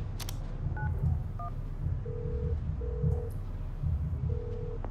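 Phone keypad tones from the FIFA 19 video game, a few quick beeps followed by three longer evenly spaced tones, over a low background murmur with no speech.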